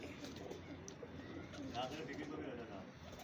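Golden pigeons cooing close by at a breeder's pigeon show, a soft rolling coo rising briefly in the middle over a steady background murmur, with people talking throughout.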